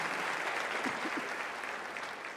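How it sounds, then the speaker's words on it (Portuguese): Steady applause from a church congregation during a service, a dense wash of clapping that fills the whole stretch, moderately distant, with a few faint voices briefly rising in the middle. "Pode aplaudir Jesus."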